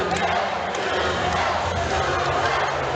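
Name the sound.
crowd chanting at a fight event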